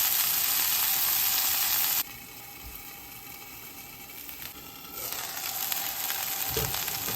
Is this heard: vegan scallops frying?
yes